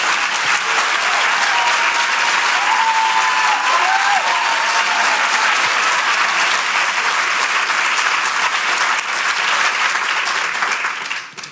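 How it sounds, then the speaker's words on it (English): An audience breaks into sustained applause, dense and loud clapping that carries evenly for about eleven seconds before tapering off at the end. "Oh, that's the clappy part."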